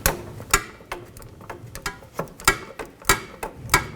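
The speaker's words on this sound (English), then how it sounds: "Now we're going to take the nut off the stud to the solenoid." A 13mm socket ratchet backing a nut off the starter solenoid stud on a 1984-2001 Jeep Cherokee, giving a steady run of close, crisp ratcheting clicks in quick irregular rhythm.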